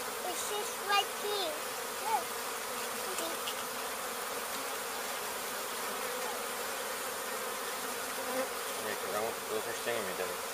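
Dense, steady drone of a honey bee swarm containing three queens, heard close up during a hive removal in Weslaco, Texas, a continuous buzz filling the whole stretch with occasional faint voices nearby.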